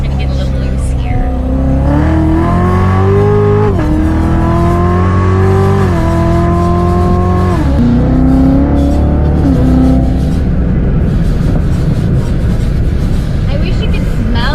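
A modified Z06 sports car with about 46 added horsepower, roughly 585 at the wheels, roars loud and close as it accelerates, its engine pitch climbing and dropping through several gear shifts before settling into a rougher, steady drone.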